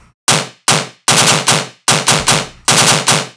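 A tearout machine gun bass synth blasts out in rapid stuttering bursts, repeated sharp, gunfire-like hits grouped in short clusters. It is loud and aggressive with brief silences between the bursts.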